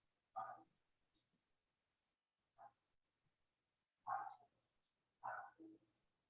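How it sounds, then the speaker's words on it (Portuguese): Dog barking in the background at home, four separate faint barks spread out over several seconds with quiet gaps between them. "tem um cachorro latindo"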